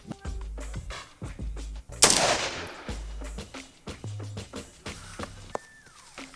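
Gunshots at an outdoor shooting range during a beginner shooters' lesson, several sharp, loud reports spaced a second or so apart, with one especially heavy blast and echoing decay, close to the listener.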